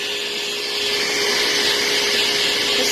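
An old Electric Cleaner Company K9 dog grooming dryer runs steadily at close range, a loud continuous blowing whoosh with a faint high whine, during a Goldendoodle grooming session.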